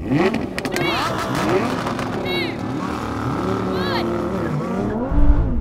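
Engines of a Lamborghini Huracan, Audi R8 and Nissan GT-R rev and roar as the cars accelerate hard in a drag race, with rising whines and gear changes, loud and close, mixed with a voice talking over them.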